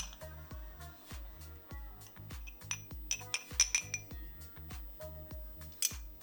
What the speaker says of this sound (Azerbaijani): Qarışdırıram yaxşıca sos hazırlayıram.